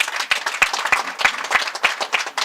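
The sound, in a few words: audience applause for young cadres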